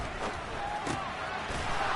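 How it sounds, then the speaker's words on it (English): A football stadium crowd rumbles and swells before a big third down, a steady, loud mass of noise with a few sharper shouts rising out of it. "the crowd getting into it as we come up on a big third down"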